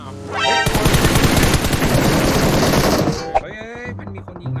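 Rapid automatic gunfire in PUBG Mobile, a loud dense burst of shots lasting a few seconds, then a sharp single report and a quieter trailing tail.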